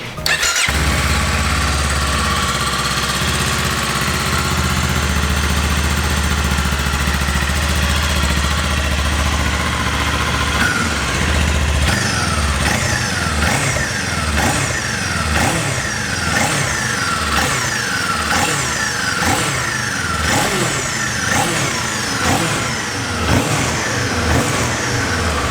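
A two-cylinder Kawasaki Eliminator motorcycle engine cranks and catches, idles briefly, then revs repeatedly in rising and falling bursts, loud and close throughout.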